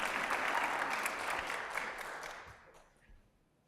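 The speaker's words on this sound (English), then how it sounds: "So give them a big round of applause" An audience claps for startup presenters at a pitch event, a fairly quiet burst of applause that holds steady before fading out over the last second.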